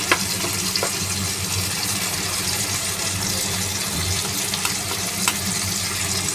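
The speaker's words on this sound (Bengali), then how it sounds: "টমেটোগুলোকে হালকা করে গেছে ভেজে নিব। এখন এতে আমি আদা রসুন বাটা একটু দিয়ে দিলাম" Tomatoes and ginger-garlic paste fry in a pan with a steady, dense sizzle that runs continuously at close range, marked by occasional small pops and the scrape of stirring.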